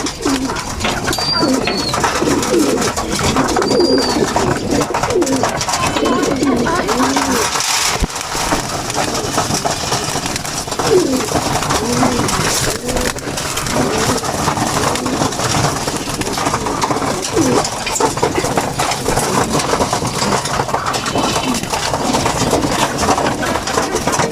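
Pigeons coo in low, warbling calls that repeat over a loud, dense din of background noise and what may be an engine idling, and faint voices are also present.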